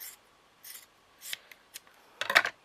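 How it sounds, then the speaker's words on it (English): Scissors trim fabric around the edge of a cone-shaped piece for a pin cushion, giving a few short, crisp snips close by, spaced apart, with a denser burst of cutting near the end and no talk. "And then what I would do is just trim it"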